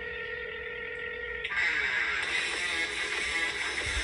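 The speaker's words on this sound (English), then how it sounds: "Joseph, it's ringing" Phone ringing in a comedy sketch: a steady electronic tone shifts into a brighter, busier ringing pattern that continues, fairly loud and near, with a sense of voices or media playing underneath.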